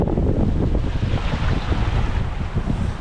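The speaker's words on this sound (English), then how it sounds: "this is what proper downwind sailing looks like" Wind roars and waves rush past a yacht sailing downwind across the open Atlantic, a loud, constant churn of water and gusting air buffeting the microphone.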